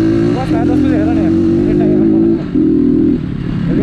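An off-road motorcycle, a GR7 or RM 250, runs on a jungle trail with a strong steady engine drone that holds, breaks off briefly and returns, alongside nearby voices.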